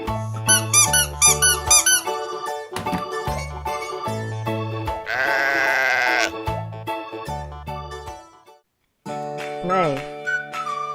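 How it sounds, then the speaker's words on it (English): Repeated sheep bleats, some short and some drawn out, loud and close, interleaved with squeaky toy-like tones and brief pauses, with no voice over them. "Sheep."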